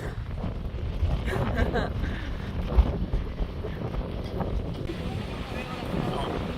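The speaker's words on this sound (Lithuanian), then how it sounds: "Vėjas didžiulis." Strong wind on a hike to the Gibraltar border buffets the microphone in a steady low rumble, with gusty swells and a brief thump partway through.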